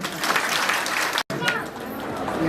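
Wedding guests applauding during a ceremony, a dense, loud burst of clapping with crowd noise that continues around a brief cut.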